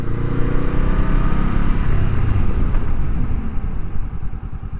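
A 2023 Honda CL500 Scrambler motorcycle during a brake test, its engine giving a steady, close, loud drone that holds throughout with no talk over it.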